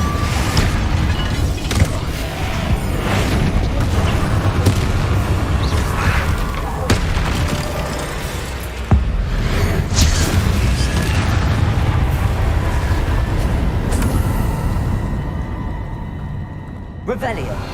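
Confringo fire spells exploding during combat in Hogwarts Legacy, a string of booming blasts and crackling bursts over a dense battle din, with a voice talking throughout.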